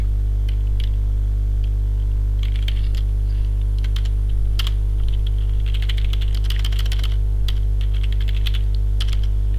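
Computer keyboard typing in bursts of quick, close clicks over a strong steady electrical hum, with pauses between runs of keystrokes.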